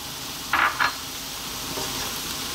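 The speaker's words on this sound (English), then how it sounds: "Going to drop in those sliced fresh mushrooms." Sliced fresh mushrooms hit a hot pan with beef for a pasta sauce, giving two short bursts of sizzle close by, then a soft steady fry underneath.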